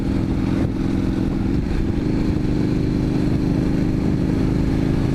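A motorcycle with a twin exhaust, a KTM 1290 or Indian FTR 1200, rumbles loudly nearby, rising slightly in pitch as it pulls away, with a deep burbling exhaust tone throughout.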